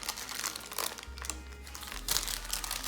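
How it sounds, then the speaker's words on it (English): Crinkly rustling of wax paper being slowly peeled off a warm, freshly baked eggless sponge cake, in soft irregular bursts with a brief lull in the middle. "So I take this wax paper out"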